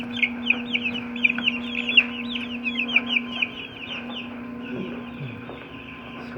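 Young chickens in a brooder, a soft flock of rapid high cheeps and peeps over a steady low electrical hum, moderately close and fading slightly toward the end, with no talking.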